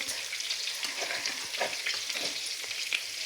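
Onion, garlic, potatoes and beaten egg seasoned with pepper and salt fry in a pan, a soft steady sizzle with light crackles and stirring scrapes, no talking.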